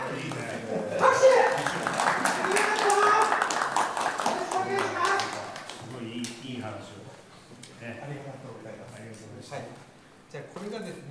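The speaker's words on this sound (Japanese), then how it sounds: "拍手。" People clap at a courtesy visit from a natto mascot, with scattered, irregular hand claps mixed among voices talking and chattering over them, loud at first and then thinning out.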